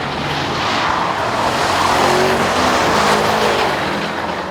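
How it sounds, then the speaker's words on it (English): A BMW M5 Competition Pack slides sideways on a damp, twisty test track, its engine roaring loudly with rising revs and a brief tire squeal, close and continuous. "the most important thing about the M5 competition pack is how sideways it will go"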